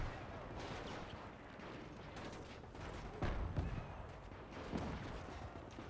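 Machine gun fire in the World War II video game Gates of Hell, set at the 1940 Battle of Dinant, comes as faint, distant rattling bursts and scattered shots, with a few louder cracks standing out.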